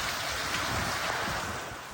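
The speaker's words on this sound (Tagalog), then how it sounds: "Pabugso-bugso rin ang ulan." Gusty rain pours down in Batanes after a typhoon, a steady, moderately loud hiss of falling water that fades slightly near the end.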